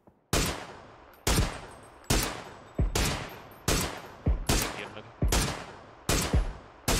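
Video game gunshots crack out one after another in a steady, evenly spaced rhythm: about a dozen loud, close shots, with no talking over them.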